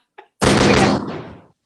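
A loud, sustained burst of gunfire-like noise lasting about a second, preceded by a faint short click, then cutting off abruptly.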